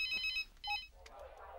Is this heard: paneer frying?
no